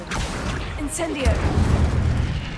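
An Incendio fire spell cast in Hogwarts Legacy gives a soft whooshing burst with a low rumbling boom that swells and holds, close and moderately loud.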